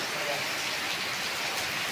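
Heavy rain falls steadily, a dense continuous hiss of drops that stays even and fairly loud from start to finish.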